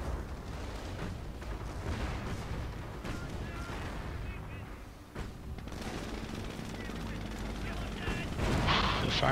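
Dense battle noise from Company of Heroes, with repeated booms of mortar and artillery fire and crackling gunfire rumbling continuously, while players talk over it.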